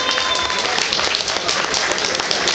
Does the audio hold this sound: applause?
yes